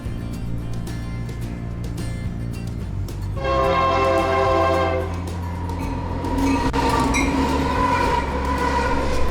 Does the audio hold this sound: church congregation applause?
no